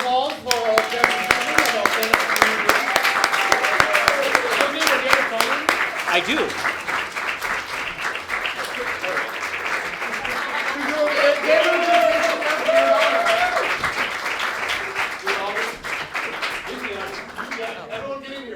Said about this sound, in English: Please give a round of applause for Jeremy